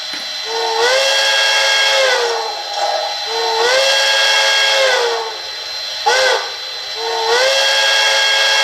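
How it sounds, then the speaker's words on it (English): Loud, shrill steam whistle blasts, several in a row with short gaps between them, close and clear with a hissy edge, from a Bachmann HO scale DCC sound model of Pere Marquette 1225. "A short whistle. Or a series of whistles."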